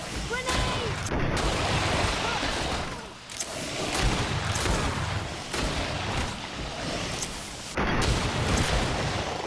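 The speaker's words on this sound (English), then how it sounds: "Watch out! Grenade!" A grenade blast in the video game GreedFall erupts amid a dense, loud battle din of booms and gunfire-like bursts, with several sharp impacts spread across the scene.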